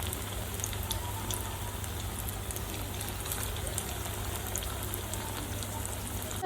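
Lote fish pakoras deep-frying in hot oil, a steady dense crackle and hiss running throughout with a low hum beneath, fairly loud and continuous, no one talking.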